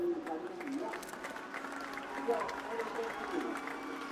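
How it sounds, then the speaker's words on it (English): A crowd cheering and applauding after a man's speech, a steady wash of clapping and voices heard at a distance, fairly faint. "They're cheering him."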